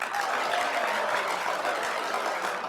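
Applause from an audience at a live comedy show fills the room in a steady, dense wash of clapping, moderately loud throughout with no voices on top.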